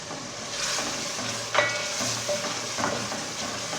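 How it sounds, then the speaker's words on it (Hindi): Three or four chopped green chillies fry in well-roasted masala for daal mash, giving a steady close sizzle broken by a few scraping stirs of the spoon in the pan. "अब इसके अंदर सब्ज़ मिर्चें 3-4 अदद कटी हुई ऐड करेंगे।"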